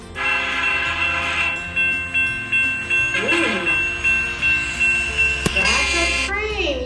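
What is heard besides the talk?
train passing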